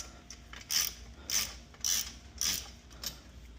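A ratchet with a deep spark plug socket loosens a spark plug on a string trimmer, producing four evenly spaced bursts of rapid clicking at close range with no talk.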